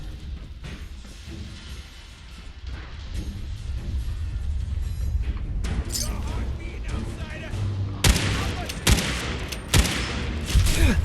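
Shotgun blasts in Fallout 4, several sharp bursts clustered toward the end over a busy, loud combat soundscape, with talking mixed in.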